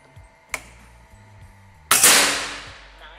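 Two sharp pops from a Gorilla 500cc full CNC PCP airgun firing slugs, a small crack and then a louder snapping discharge whose hiss trails off over a second, with no talking.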